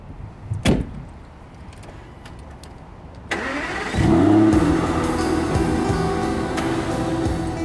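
An Aston Martin DB9 Volante convertible starts up: a door shuts, then after a pause the engine cranks and fires into a loud, steady idle that settles at close range.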